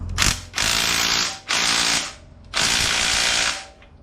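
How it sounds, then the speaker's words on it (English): An impact wrench hammers at the swing arm bolt of a 2006 Yamaha Raptor 700R quad in three loud, close bursts of rapid rattling, with brief pauses between them and no talking. "So what we're going to be trying to do is undo this swing arm bolt right here."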